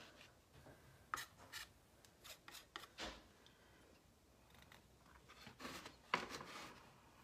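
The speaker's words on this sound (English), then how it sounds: "I think I want to scrape just a little." Paint being scraped off a mixed media heart craft piece, heard as faint, intermittent scratchy strokes with short gritty bursts and pauses between them.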